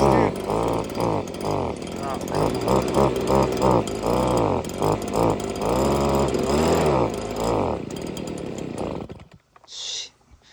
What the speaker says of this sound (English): Oh dang, I think my dang blower's running out of gas too.